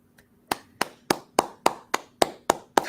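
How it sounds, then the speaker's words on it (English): One person claps alone during a live chat, nine sharp, evenly spaced hand claps at a steady moderate tempo, close and clear against a quiet background. "Round of applause."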